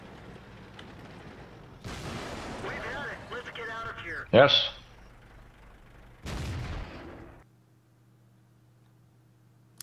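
A KV-2 tank's big derp cannon fires in a tank video game with one sharp, loud blast partway through, over steady game rumble and someone talking.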